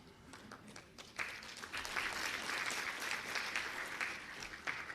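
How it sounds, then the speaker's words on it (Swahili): An audience applauds at a government ceremony in Dodoma, with moderate, fairly distant clapping that swells after a second and stays steady to the end. "naomba tena tuwapongeze kwa makofi mengi kabisa kabisa"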